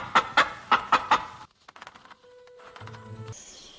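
Hens cluck in a quick burst of about five loud, sharp calls, followed by quieter scattered clucks and a low steady hum.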